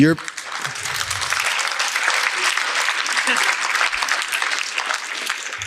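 Applause from an audience fills a hall, a dense, sustained clatter of many hands clapping that holds steady for several seconds, with a voice briefly audible at the start.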